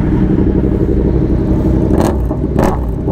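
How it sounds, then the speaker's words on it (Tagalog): Loud, steady low rumble of a Yamaha MT-07 motorcycle engine with an open exhaust pipe, close by and continuous, with two brief rasping bursts near the end. "Bulahaw talaga yung MT-07. Ingay talaga nitong MT-7. Talagang open ang pipe eh."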